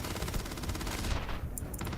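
Rapid automatic gunfire rattles without pause in the Starfield video game, a dense and steady stream of shots that thins out near the end.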